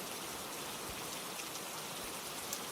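Steady rain falling, a dense even hiss of drops with occasional faint patters, continuous and moderately quiet with no voices.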